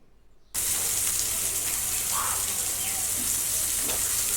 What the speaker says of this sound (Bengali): রসুনটা নাড়াচাড়া করে ভেজে নিচ্ছি